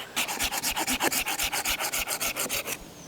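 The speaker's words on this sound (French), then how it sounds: "Le but est toujours de scier le plus près du tronc." Hand saw cutting through a wood branch close to the trunk outdoors, a fast, even run of about twenty rasping strokes, close and fairly loud, with no voices.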